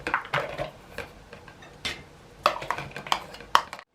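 Apples, sultanas, ground cinnamon and soft brown sugar being mixed in a bowl for tartlets, with a spoon scraping and clinking against the bowl in short bursts, several sharper knocks near the end, close and fairly quiet.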